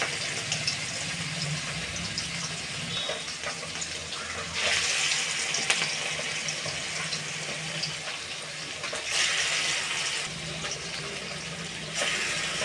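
Prawn fritters frying in hot oil in a wok make a steady hiss and sizzle that swells in two louder bursts as more batter goes in, with no talking.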